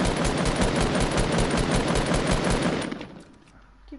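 Rapid automatic gunfire rattles loud and continuous in a video game for nearly three seconds, then cuts off, leaving faint background sound.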